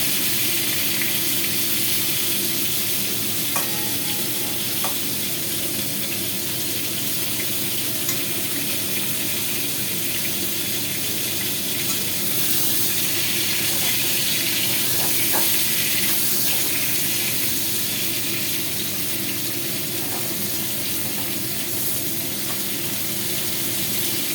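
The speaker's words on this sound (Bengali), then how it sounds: "একটা একটা পটলকে ভালো করে লাল লাল করে একটু ভাজতে হবে" Pointed gourds frying in a pan keep up a constant loud sizzling hiss, with occasional light clicks and shuffles as they are turned, and no speech.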